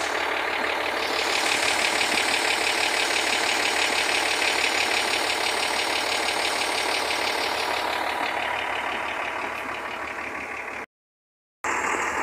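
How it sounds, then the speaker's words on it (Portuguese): A steady, loud truck engine idles close by with a constant low rumble and broadband hiss, running continuously until it cuts out abruptly near the end. "Vou parar meu caminhão aqui"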